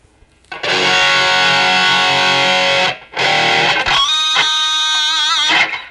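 A loud distorted electric guitar with high-mid boost, through a BOSS eBand JS-10, rings out in sustained chords, briefly cut off, then strummed again with bright, edgy midrange.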